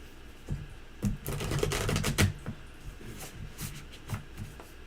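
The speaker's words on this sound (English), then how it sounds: "I'm going to let you shuffle too, Mr. O." Tarot cards are shuffled by hand, bursts of quick riffling and slapping flicks clustered together, followed by softer scattered taps in a quiet room.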